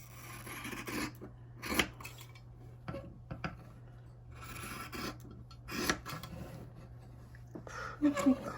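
Scissors snipping around a paper embellishment: irregular clusters of rasping cuts with pauses between them, close and fairly quiet, over a low steady hum.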